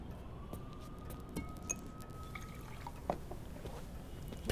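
Water poured into a glass with a thin, steady filling tone and a few small clinks and drips, fairly quiet against a hushed indoor room.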